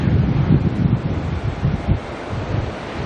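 Wind at Auckland Airport, a loud, continuous gusty roar buffeting the microphone with rumbling surges and no other sounds standing out.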